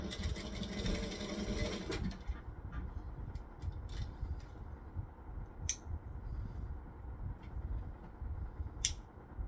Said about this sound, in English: So I'm just lining them up, stitching them